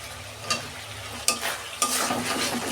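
Tomatoes fry with spices in a pan for a fish curry, giving a steady, close sizzle while a spatula scrapes through in three distinct strokes; no one speaks.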